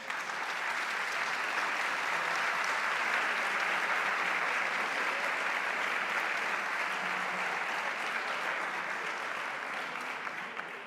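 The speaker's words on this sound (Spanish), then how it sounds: "este aplauso era fácil" Sustained audience applause at a conference panel on new technologies, digitalization and AI, a dense steady clapping from a large crowd that holds evenly for about eleven seconds and fades slightly at the end.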